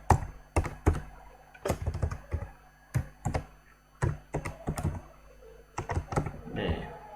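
Typing on a computer keyboard, a close, rapid run of distinct key clicks and thumps in uneven bursts, with a brief bit of background noise near the end.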